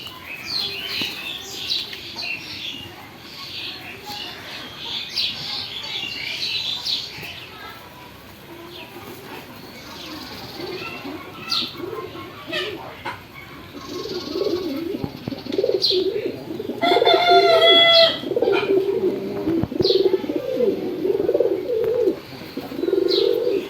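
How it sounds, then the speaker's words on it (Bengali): A flock of pigeons coos in a farm loft, with soft overlapping coos and scattered chirps close by, growing fuller toward the end, with brief wing sounds mixed in and no clear talk. "অনেকগুলো কবুতর এখানে আছে তা না এখানে কমপক্ষে এগারো জোড়া আছে"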